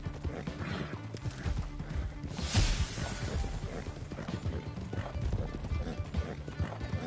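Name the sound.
horse hooves in video game Red Dead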